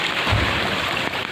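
Steady rain pours down in Chennai during Cyclone Nivar, a dense, continuous hiss of falling water with a low rumble underneath and no voices.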